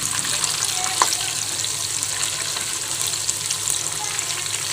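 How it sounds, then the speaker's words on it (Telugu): Chicken pieces frying in a pan for street-style chicken fried rice, giving a steady, close crackling sizzle throughout with light spatter pops and no talk. "ఈ చికెన్ ఫ్రై తయారు చేస్తున్నాను"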